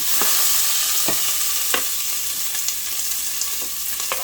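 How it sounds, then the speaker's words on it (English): Onions and peppers sizzle loudly in a very hot pan, a steady broadband hiss with a few sharp stirring clicks and spatters scattered through, close and continuous with no talking. "So into my pan, I am going to be adding my onions and peppers. Whoa, guess that was super hot."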